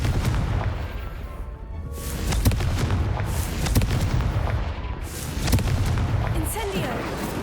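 Confringo fire spell explosions in the game Hogwarts Legacy, a series of booming blasts and crackling bursts in rapid succession, loud and close, with a voice calling out over the effects.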